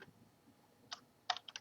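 Keys tapped on a computer keyboard while entering text in the Unity editor: a single click, a short pause, then a quick burst of several sharp, quiet keystrokes close by, with no talking.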